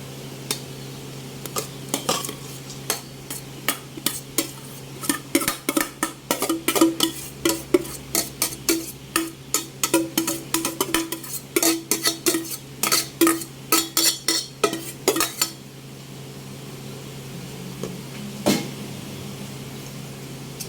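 A utensil stirs and mixes quinoa salad in a bowl, with steady scraping and clinking strokes in a rhythmic run that stops near the end, close and clear.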